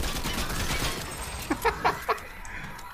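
Gunfire in a Fortnite match, a quick burst of four sharp shots around the midpoint, standing out above a dense, noisy game soundscape.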